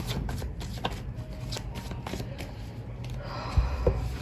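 Tarot cards are shuffled by hand in quick, close riffling bursts with soft papery slaps and taps, with no talking over them.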